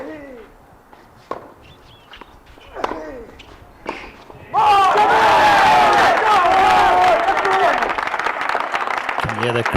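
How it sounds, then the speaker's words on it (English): Tennis spectators at an ITF men's tour match on a centre court in Gaborone break into loud, sustained cheering and applause midway, after quieter moments of sparse claps and commentary voices; the roar then holds steady and dense. "Can hear the crowd getting behind Tunka now."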